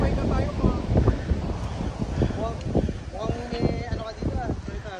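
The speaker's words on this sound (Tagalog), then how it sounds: "Ayan guys, sarap ng hangin." Wind gusts against the microphone on a mountain hike in Seoul, a steady rushing rumble with people talking over it.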